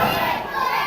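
Jeering wrestling crowd at an FWA show, a dense wall of shouting and booing voices aimed at wrestler James Tighe, loud and sustained throughout with no break.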